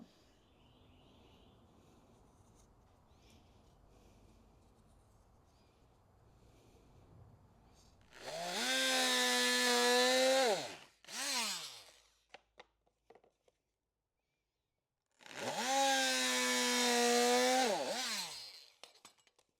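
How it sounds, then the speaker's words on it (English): A power saw cuts through a piece of wood used to seat casters, with two loud, high-pitched whining runs separated by a short burst and a pause, close by and with no one talking. "so we can probably cut this piece of wood."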